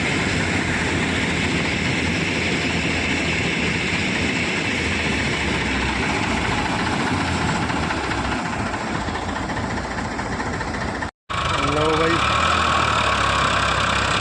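A tractor engine runs steadily and loudly on a Punjabi farm where trolleys are being loaded, its rough drone continuous and close, with a brief break and a voice near the end.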